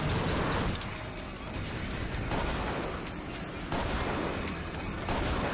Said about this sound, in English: I'm shooting you, you stupid thing.